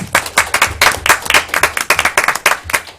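Audience applause at a board of trustees meeting: a dense, steady patter of many hands clapping close by for about three seconds, with no talk over it.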